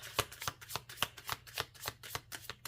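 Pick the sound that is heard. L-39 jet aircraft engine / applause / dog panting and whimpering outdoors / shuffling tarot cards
shuffling tarot cards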